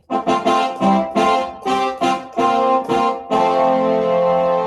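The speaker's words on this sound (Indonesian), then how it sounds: "Dan brass itu bunyinya kayak gini. Ini yang brass brass section ya." A keyboard brass-section sound plays a series of short punchy stabs in rhythm, ending on a longer held chord, bright and close.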